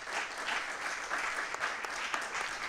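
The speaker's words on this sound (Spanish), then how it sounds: "les pido por favor que les demos un gran aplauso" Continuous, moderately loud applause from an audience thanking a panel at a discussion on tools for water operators, a steady even patter of many hands with no voices.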